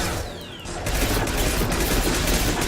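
Gunfire in Mass Effect 2 with a dense, continuous barrage of rapid shots and crackling impacts, growing louder after a short whooshing lead-in.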